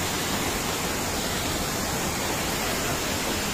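Continuous rushing of a flowing stream near the Dedugala waterfalls on the way to Kabaragala, a dense, even, close hiss of water with no pauses.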